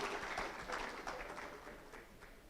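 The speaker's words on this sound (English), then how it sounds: "a round of applause for Kevin" A forum audience claps in a fairly faint, distant patter, the applause continuous but thin and gradually easing toward the end.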